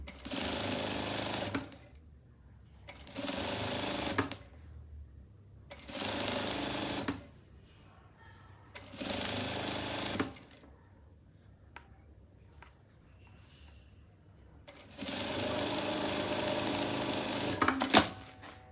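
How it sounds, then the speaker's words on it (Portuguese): A sewing machine stitches a seam on patchwork fabric in several loud bursts of rapid whirring, separated by short quiet pauses with small handling noises. "vou fazer uma costura"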